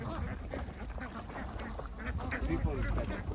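A large flock of ducks on a Bangladeshi duck farm keeps up a dense, continuous quacking close by, while someone talks over it.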